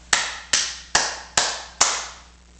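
Five sharp hand claps spaced about half a second apart, each a crisp close-up smack with a short ringing decay, done in a seal-like clapping imitation with no talking.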